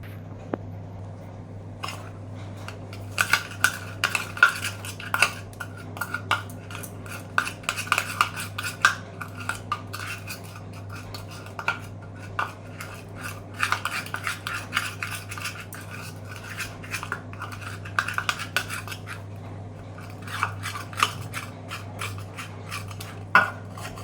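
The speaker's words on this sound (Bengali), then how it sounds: "এবার এটাকে আমি ভালো করে ঘেটে নিচ্ছি।" A spoon scrapes and clinks steadily in a bowl while a paste of honey, turmeric and neem powder is stirred, with repeated light taps over a low constant hum, no one speaking.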